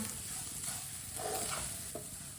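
Spices frying in a pan over a low flame give a steady, soft sizzle with light stirring scrapes, close and fairly quiet, with no voices.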